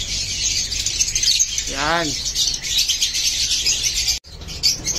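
Birds in a breeder's aviary keep up a continuous high twittering chorus, with one clear, louder chirp midway and a brief spoken word near the start.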